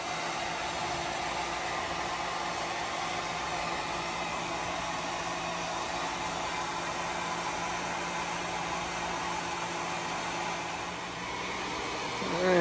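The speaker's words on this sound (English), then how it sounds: "My blow dryer is OG. This is hot. It's blowing out hot." An old blow dryer blows air in a steady, loud, unbroken rush of broadband noise for the whole stretch, with no talk over it.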